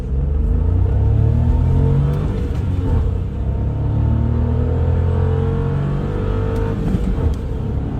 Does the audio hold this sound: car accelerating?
yes